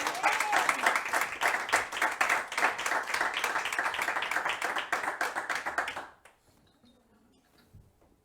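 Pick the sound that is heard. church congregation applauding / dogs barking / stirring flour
church congregation applauding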